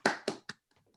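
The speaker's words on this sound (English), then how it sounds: "Maybe a round of applause for everybody." Applause from participants in a young adult gross motor skills class, three quick sharp claps close by that fade into faint tapping.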